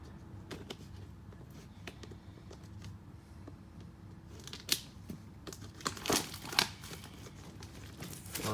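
Paper packaging being torn and crinkled while a Pokémon Elite Trainer box is opened, with soft rustling throughout and a few sharper, louder tears and crumples toward the end, no voices.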